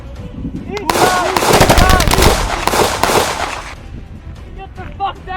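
Automatic and single gunshots crack in a dense war firefight, loud and close for about three seconds before easing off, with shouted voices over the barrage.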